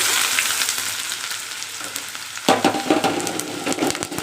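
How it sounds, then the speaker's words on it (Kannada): Mustard seeds crackling in hot oil as chopped onions are tipped in, a steady close frying sizzle that jumps louder and busier midway with sharp popping bursts, with no talking. "ಸಾಸಿವೆ ಚಟಪಟ ಅನ್ಬೇಕಾದ್ರೆ ಈರುಳ್ಳಿ ಹಾಕ್ಕೊತೀನಿ."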